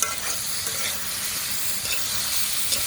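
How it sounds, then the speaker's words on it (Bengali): Okra being stir-fried in spiced masala for a tengra fish curry, a constant close hissing sizzle with light scraping movements, no speech over it. "সবজিটাকেও ঢেঁড়সটাকে আমি মশলার মধ্যে কষিয়ে নেব কিছুক্ষণ।"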